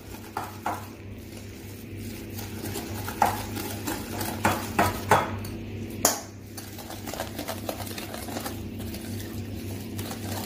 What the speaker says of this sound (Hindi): अब सारी चीजें हम मिक्स करेंगे, बिल्कुल लम्स नहीं रहने चाहिए, अच्छे से हम इसे मिक्स करेंगे।